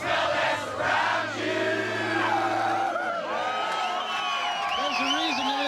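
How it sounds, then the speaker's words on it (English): A concert crowd at a tribute tour show cheers, whoops and yells loudly and continuously, a dense roar of many voices with individual shouts standing out. "This crowd is a little bit louder than they have been before."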